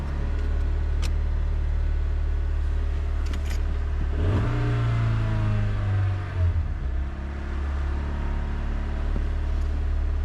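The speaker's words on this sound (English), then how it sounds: "But the engine suddenly starts running a lot." A camper van engine idles with a low steady hum, then revs up sharply, holds a higher pitch for a couple of seconds and drops back to idle.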